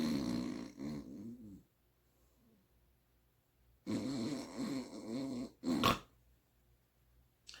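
A voice imitates snoring: two loud, rattling snorts separated by a quiet breath, then a sharp snuffling snort near the end.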